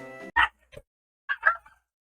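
Short retro-style dog bark cries from Pokemon Black, a few clipped yips in quick succession with gaps between, fairly loud and alone without talk.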